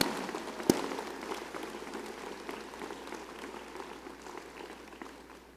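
Audience at a university graduate school commencement ceremony applauding and cheering an alumni achievement award winner, a steady wash of many hands clapping in a large hall, starting with a sharp transient and slowly tapering off.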